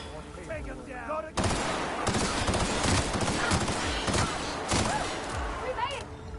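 Gunfire in the video game The Outer Worlds: after a short lull, a dense, loud fusillade of rapid shots and bursts runs continuously to the end, with game voices mixed in.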